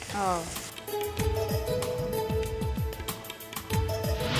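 Prawns frying in a kadai for tomato prawn rice, giving a steady crackling sizzle throughout while a person talks over it.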